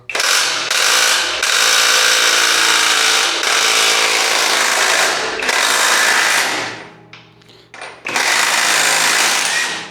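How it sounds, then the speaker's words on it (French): A power tool with a 34 mm socket unscrews the rear wheel axle nut on a motorcycle, giving loud, close, continuous whirring bursts with short stops, a dip, then a final burst. "je vais pouvoir, avec la douille de 34, dévisser l'écrou de l'axe de la roue arrière."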